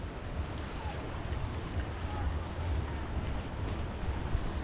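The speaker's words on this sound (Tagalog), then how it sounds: "Lakas ang agos oh." Strong floodwater current rushing past where boats are moored, carrying logs and debris, heard as a steady broadband roar of moving water with wind buffeting the microphone throughout.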